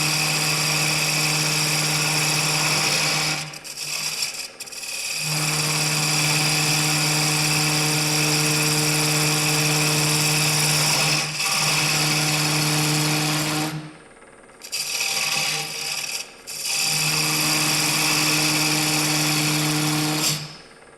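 A loud, steady power drill with a large bit whines continuously boring into wood, stopping briefly a few times before spinning back up, close and alone with no voices.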